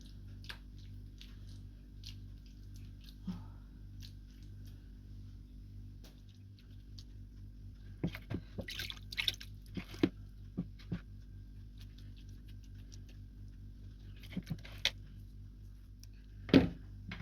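Wet hands pat and shape meat cutlets, giving soft squishy slaps and sticky smacks in scattered bursts over a steady low hum. The sounds are quiet, with a few sharper pats near the end.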